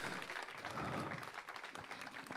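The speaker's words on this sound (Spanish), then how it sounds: "Dale un aplauso de gratitud" A church congregation gives a round of applause in thanks, a faint, even wash of many hands clapping that lasts a couple of seconds.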